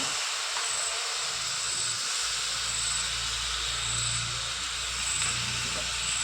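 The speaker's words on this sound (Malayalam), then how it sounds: "അതിലേക്ക് ഒരു 3 കയ്യിൽ വെള്ളം ചേർക്കുന്നുണ്ട് കേട്ടോ" Water is added to hot sugar in a pan while making caramel for a pudding, producing a loud, steady sizzling hiss that carries on without a break.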